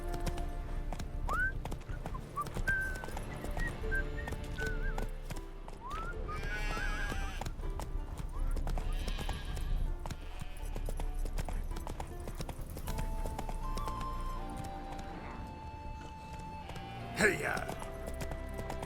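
Roach, the horse in The Witcher 3: Wild Hunt, gallops in steady rhythmic hoofbeats with a neigh, under game music and speaking voices.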